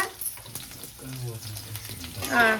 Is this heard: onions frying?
yes